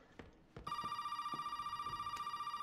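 A telephone rings inside the Resident Evil 7 game, a sustained electronic trill with a steady pulsing ring that starts sharply after a few faint knocks and continues loud and unbroken to the end.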